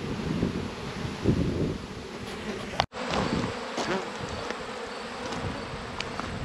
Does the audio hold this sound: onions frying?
no